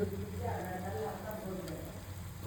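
Bread crumb coated food frying in hot oil, a soft, steady sizzle and crackle that stays faint and even throughout.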